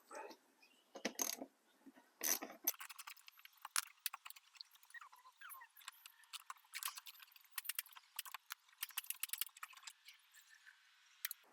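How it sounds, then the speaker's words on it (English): Phillips screws are worked out of a Honda Odyssey rocker molding with a hand tool, giving quiet, irregular clicks and ratcheting ticks close by, with sparse metallic rattles and no talking. "Both these Phillips screws need to come out."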